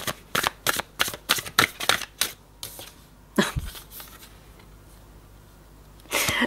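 Tarot cards being shuffled and drawn, a quick run of crisp riffling snaps in close succession, then a few separate slaps of cards laid down, a quiet pause and a last burst of shuffling.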